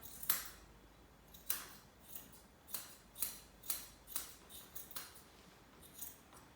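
Grooming scissors snipping the hair on a Lagotto dog's head, about a dozen crisp close snips in an uneven rhythm with short pauses between them, no talking.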